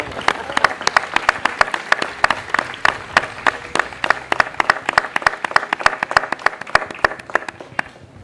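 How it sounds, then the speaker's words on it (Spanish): Audience applause at a conversation event on Mafalda, as a medal is presented: a steady run of many hands clapping for about eight seconds, dense and close, fading slightly at the end. "Un aplauso."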